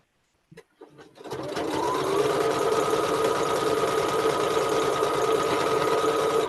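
After a few soft clicks, a sewing machine starts and runs continuously at a steady speed, stitching fabric, its motor whirring loudly and close by.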